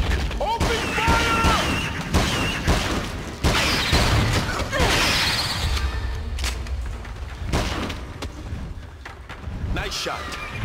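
Gunfire in the video game Peter Jackson's King Kong: loud booming shots and crashing blasts repeat steadily throughout, with game voices and music layered over the chaotic battle noise.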